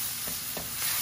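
Vegetables such as carrots, onions and leeks sizzle steadily in a wok while being stirred, with a few soft scraping strokes over a constant close frying hiss.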